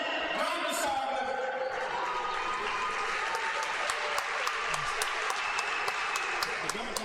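Applause for the Grain de Sable theatre company at a live show, a steady dense wash of clapping from a crowd lasting throughout, with voices mixed in underneath.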